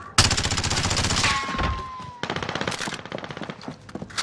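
Loud, close automatic weapon fire in the shooter Warzone, a long rattling burst followed by a short break and another burst, with a faint electronic tone running under the first volley.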